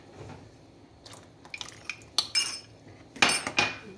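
Whole wheat thandai custard stirred in a pan for a tart, with a spoon scraping and clinking against the metal in irregular bursts, louder near the end, with soft wet sloshing between strokes.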